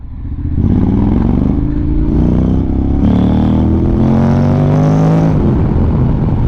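A Honda X-ADV750 motor scooter climbs a hill, its engine revving loud and close with rising, stepped pitch sweeps as it accelerates, followed by a steady high drone.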